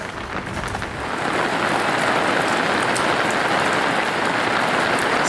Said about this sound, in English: It is really coming down.